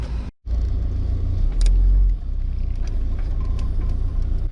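A car drives along with a loud, steady engine and road rumble throughout. It cuts out briefly near the start, then swells for a moment before settling back to an even drone.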